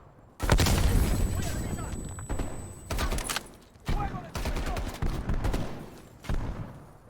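Bursts of automatic gunfire and explosive thumps from a Call of Duty Cold War match, loud and dense in repeated volleys with short gaps, with game voices calling out between shots.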